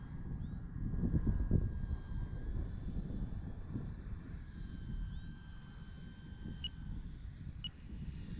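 A Turbo Timber Evolution electric RC plane flying in to land over pavement, its faint, thin motor whine gliding in pitch over steady wind rumble from outdoors.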